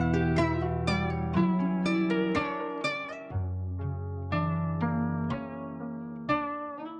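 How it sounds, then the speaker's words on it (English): A synth melody with a halftime effect, each note stretched and slowed into a deeper, dragging groove of sustained tones with sharp plucky attacks, played alone with no voices. "Halftime sounds like this."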